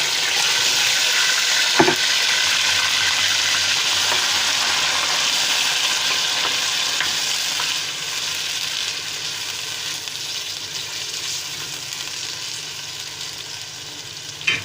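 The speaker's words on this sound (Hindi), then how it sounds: "इसको तकरीबन 5 से 7 मिनट इसको भूनना है गोश्त को" Beef sizzles and spits steadily in hot oil with garlic-ginger paste for a kadai, a close, loud, continuous frying hiss with a single sharp clatter early on and no talking.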